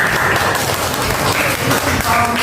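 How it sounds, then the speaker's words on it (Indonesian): Audience claps for a speaker at a teacher-training competency assessment, a moderately loud wash of applause lasting a couple of seconds, with some voices mixed in. "tepuk tangan buat Bapak."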